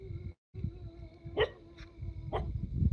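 Dogs barking at night in a cemetery, several short sharp barks spaced irregularly at middle distance over faint background hum, with no speech.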